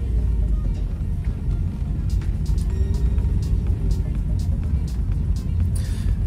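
A car pulls away and drives on a road, its engine and tire noise a steady loud rumble throughout, with faint clicks on top and no speech.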